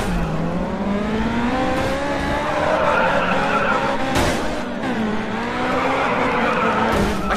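Race car in GRID 2 skidding and fishtailing, tires squealing continuously over a revving engine, loud and close with wavering pitch as the car slides back and forth.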